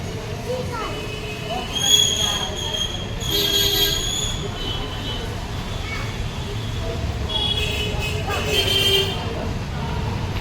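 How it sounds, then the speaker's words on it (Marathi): Busy railway station ambience on the Igatpuri platform: a train rumbles with squealing wheel screeches rising at intervals, while people talk in the background. "बघा आयुष आणि आमचं इगतपुरीचं प्लॅटफॉर्म स्टेशन आहे"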